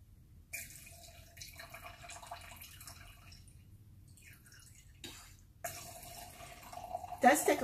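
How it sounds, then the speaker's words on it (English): Wine trickles from a bottle through a Coravin needle into a glass in soft intermittent streams and hisses, quiet and close, with a small clink near the end. "Does take a little bit more time to pour with the Coravin"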